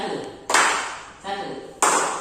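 A classroom group claps in unison in a practice teaching session, with two sharp collective claps about a second apart and voices around them.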